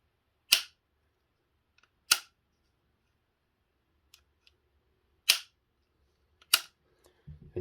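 GHK Glock 17 Gen 3 airsoft pistol being worked by hand, four sharp metallic slide and striker snaps spaced a second or more apart, with small clicks between, close up in a quiet room.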